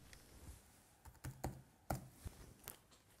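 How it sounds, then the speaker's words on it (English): A PIN being typed on a computer keyboard: a few quiet, scattered key taps spread unevenly across a few seconds against faint room noise. "All I did was type my PIN"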